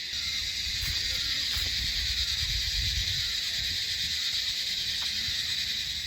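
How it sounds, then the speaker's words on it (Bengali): Crickets chirp in a jungle near a tea garden, a dense, continuous, high-pitched trill holding steady at moderate volume with faint rustling underneath and no talk. "জঙ্গলের ঝিঝি পোকার ডাক শুনতে পাচ্ছ?"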